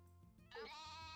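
A goat in a barn lets out a single close, wavering bleat that rises abruptly after a faint rustle and holds for a moment.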